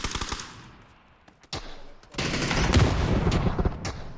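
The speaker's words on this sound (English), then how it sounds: "Where is he shooting me from?" Video game gunfire rattles in rapid machine-gun bursts, a dense volley at the start, a few isolated shots, then a sustained loud stretch of automatic fire and explosions, with a voice talking faintly in places.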